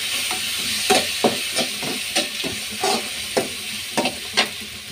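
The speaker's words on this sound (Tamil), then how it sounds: "பூண்டு இஞ்சி, கட் பண்ண இஞ்சி அதையும் போட்டு சேர்த்து வதக்கிடலாம்." Garlic and ginger sauté in hot oil with a constant loud sizzle, while a spoon scrapes and taps the pan in a steady rhythm of about a dozen strokes.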